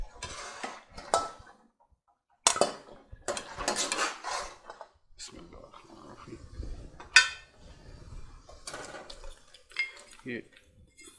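Cooked mutton, about one kilo, scraped from a pan into a bowl: repeated sharp metal clanks and scrapes of a spoon against cookware, in irregular bursts with short pauses, close and clear.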